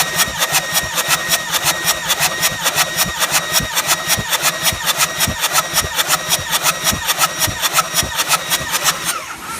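A V8 engine cranks steadily on the starter during a cylinder compression test on number 6, a loud, even, rapid chug of compression pulses repeating for several seconds without catching, close and alone.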